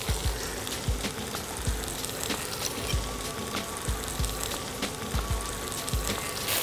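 Fish frying in a pan, seasoned with ground red chilies, salt and sugar, hisses and sizzles steadily at close range, with soft periodic thumps and crackles over a dense bubbling spatter and no voices.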